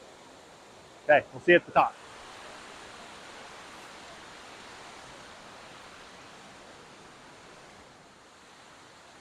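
A hiking-trail waterfall roars as a steady, broad rushing wash that fills the whole stretch, with a brief spoken phrase near the start over the constant water noise.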